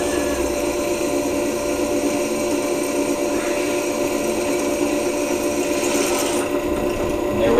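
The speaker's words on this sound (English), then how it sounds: "now I'm going to go ahead and punch the second hole. Pretty quick through aluminum." A hole being punched through aluminum, a continuous grinding, rasping mechanical noise held at steady loudness from start to finish, close by with little else audible.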